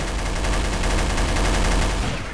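Rapid, continuous automatic gunfire from a video game as players shoot at zombies, a loud, dense stream of shots with no pause across the short stretch.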